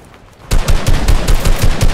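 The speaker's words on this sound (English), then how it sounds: "That is our special headshot!" Rapid video game gunfire scoring a headshot, a burst of loud close automatic shots starting abruptly after a quiet moment and continuing in a fast stuttering rhythm.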